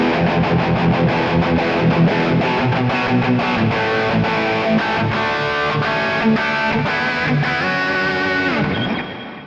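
Distorted electric guitar through a Kemper MB68 Mars Plexi 50K Marshall-style rig, a loud, thick, crunchy riff of rapid chugging palm-muted notes and chords that plays continuously, then stops abruptly and rings out briefly, with no talk.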